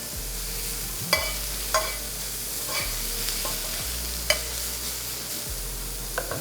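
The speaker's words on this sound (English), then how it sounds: "Again, hearing that sizzling sound." Shrimp sautéing in a hot pan give a constant bright sizzle, broken by several sharp clinks and scrapes of stirring at uneven intervals, with no talking.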